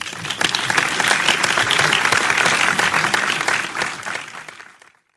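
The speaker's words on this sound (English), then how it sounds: "With a big round of applause, please welcome our chief guest and keynote speaker" Big audience applause welcoming the chief guest and keynote speaker at a public speaking championship final, a dense, loud, sustained wash of clapping that fades out over the last second.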